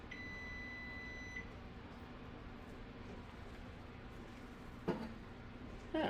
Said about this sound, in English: let me turn off the timer